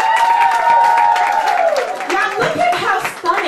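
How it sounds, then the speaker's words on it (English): A crowd at a Madame X honoring event in New York applauds and cheers an honored guest, loud clapping with a sliding whistle-like tone that thins out as voices and scattered cheers come through. "So let's give a round of applause for Miss Kola Boof."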